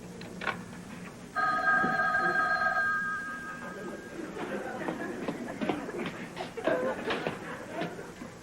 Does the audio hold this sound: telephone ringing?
yes